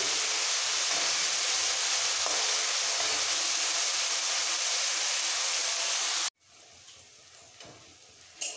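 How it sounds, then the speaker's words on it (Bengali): Cauliflower florets, steamed beforehand, fry in a pan until light brown with a loud, steady sizzle that cuts off abruptly, leaving a quieter hiss with faint clinks. "একটু ব্রাউন করে ভেজে নিতে হবে ফুলকপিগুলো।"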